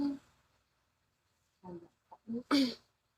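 After a stretch of quiet, a short series of breathy bursts builds to one sharp, loud sneeze at the end.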